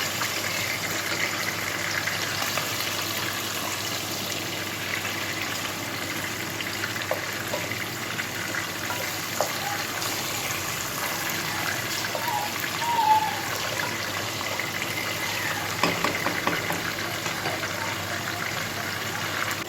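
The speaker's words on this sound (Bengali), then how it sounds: "এইভাবে সব কটা উল্টে পাল্টে ভেজে নেব।" Pieces of fish, for a ginger fish curry, fry lightly in a pan and are turned over one by one, giving a steady, moderately loud wet crackle and hiss throughout with a few soft clicks, and no talking.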